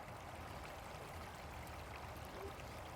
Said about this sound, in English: We're getting some audio of the water falling from Barton Springs on the one side into Barking Springs on the other.